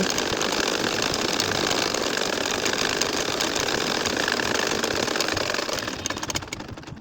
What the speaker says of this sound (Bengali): এই যে দেখছো আমি কিন্তু সেলাই করতেছি